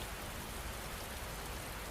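Steady rain falls in a dense, even hiss of countless drops, soft and continuous with no other sounds.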